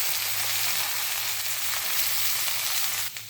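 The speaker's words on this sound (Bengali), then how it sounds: "লঙ্কা কুচি দিয়ে দেবো।" Chopped onion and green chilies sizzle steadily in a hot pan for chowmein, a dense continuous hiss with no talk, fading slightly at the end.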